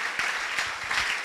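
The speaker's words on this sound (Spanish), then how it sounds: "rindámosle al Señor una fuerte ofrenda de aplauso" A church congregation claps during a Spanish-language service, producing a short burst of dense, steady applause with a few heavier low thumps, fairly loud and with no speech over it.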